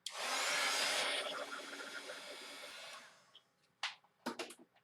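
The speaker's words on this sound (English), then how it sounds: "Heat gun." Heat gun blowing over a coloring page to dry Sharpie neon ink, a loud steady airy roar for about three seconds that winds down and stops, followed by a few brief handling clicks and rustles.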